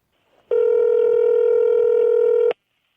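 A telephone tone sounds for a call, one steady, loud electronic beep lasting about two seconds, close and clean, with nothing else around it.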